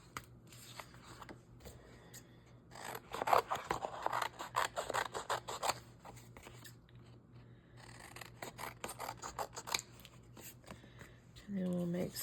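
Scissors snipping through pieces stuck on a backing sheet, a run of close crisp cuts in bursts, with quiet room noise and a voice speaking between the cuts.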